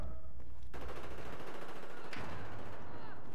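Bulldog rifle firing in Battlefield 4, a rapid automatic burst that runs continuously and fairly loud for a few seconds with a brief break partway through.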